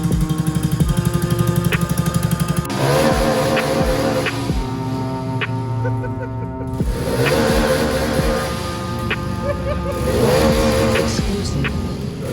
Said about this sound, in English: We got a fuel injected pocket bike, people.